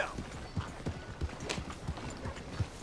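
Horse hooves clip-clop in a steady, even walking rhythm in Red Dead Redemption 2, close and moderately loud with a faint murmur of game ambience underneath.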